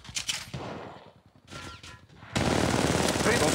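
Bursts of automatic gunfire in Apex Legends Mobile, a first-person kill mode match, with a few short shots early and then a sustained loud stream of fire at the end, over brief game voice lines.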